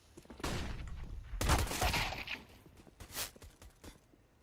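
Quick, fairly faint bursts of Glock pistol fire in CS:GO come in three separate clusters of rapid shots, with light footstep-like clicks between them.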